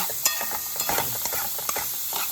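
Onions sauteing in a pan for a chipotle jerk chicken filling, with a steady close sizzle and irregular scraping stir strokes throughout, no talking.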